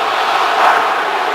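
A large stadium crowd at an NFL game between the Cardinals and Seahawks roars in a steady, dense wash of cheering and shouting, swelling slightly midway through this brief stretch, with no clear individual voices.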